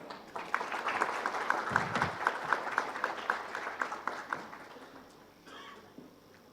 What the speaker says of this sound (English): Please welcome him with an applause.